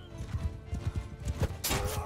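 A horse in the medieval combat game Mount & Blade II: Bannerlord gives off a run of rhythmic hoof clops, ending in a louder, brighter crash-like burst near the finish, with no talk over it.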